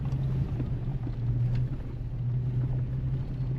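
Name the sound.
vehicle driving up a steep forest road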